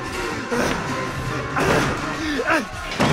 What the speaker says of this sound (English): One door closed. I was about to say you only shut one door.